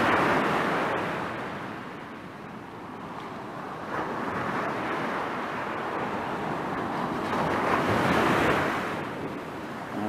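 Ocean waves washing up a beach along the Lost Coast Trail, a steady roar of surf swelling and receding with wind rumble, no voices.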